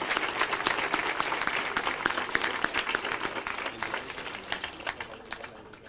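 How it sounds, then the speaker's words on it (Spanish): Congregation applauding at a Catholic Mass honoring the Virgen del Carmen, a steady wash of many hands clapping throughout, dense and sustained with no speech over it. "A ella nuestro aplauso al iniciar."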